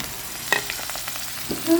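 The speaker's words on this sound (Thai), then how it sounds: "ผัดพริกกระเทียมกันเลย" Chili and garlic stir-fried for a snakehead fish dish, a soft steady sizzle broken by a few sharp spatula clinks and scrapes against the pan, with no talking.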